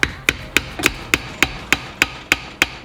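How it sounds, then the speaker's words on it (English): A flat-head screwdriver is worked into the seam to split the case of a Subaru WRX FA20 DIT engine with a failed rod bearing. About ten sharp metallic knocks land in an even, quick rhythm, close and alone. "Just get a small flat head in there just to create a gap. So, start splitting this old girl open."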